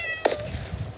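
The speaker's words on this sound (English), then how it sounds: "Stupid cats." A Minecraft cat gives a single short, close meow in the video game, brief and high-pitched over a low background hum.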